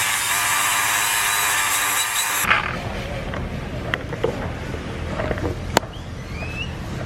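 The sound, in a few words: power grinder grinding metal on sailboat keel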